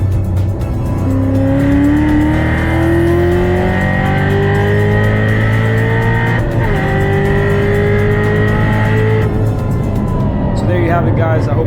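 A C7 Corvette Z06 is driven hard, its loud, close engine rising in pitch through a gear, dropping briefly at a shift around the middle, then pulling again before easing off near the end.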